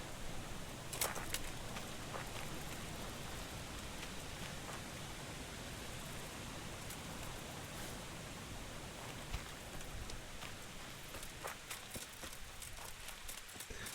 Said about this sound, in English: the rain is pretty distracting